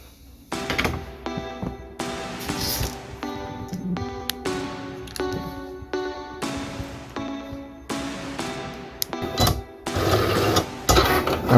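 Cricut Air cutting machine slicing gold vinyl for a decal, its motor whirring and buzzing steadily up close with repeated stops, starts and shifts in pitch as the carriage moves.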